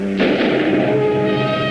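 Gunfire from an old film erupts in a single heavy, booming burst that rings out and decays under a steady background hum.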